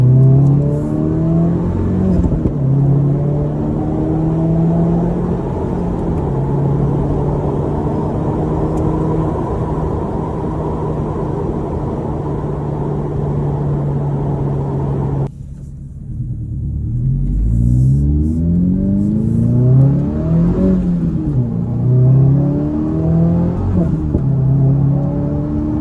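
A 2024 Subaru WRX with an AWE aftermarket exhaust revs and accelerates loudly and steadily, with a sustained engine drone, a brief drop-off, then repeated rising and falling throttle blips, close and alone.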